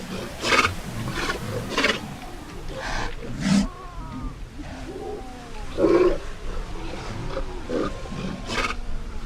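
Sea lions in a colony on the Atacama Desert coast, a chorus of overlapping roars and guttural barks, some near and loud, others farther off, continuing without pause.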